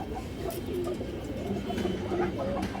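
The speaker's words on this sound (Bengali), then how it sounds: "একজোড়া হাই ফ্লায়ার পুরান জাতের সবজি কবুতর আছে" A pair of old-breed high-flyer pigeons coo in low, repeated throaty rolls close by, with faint background noise throughout.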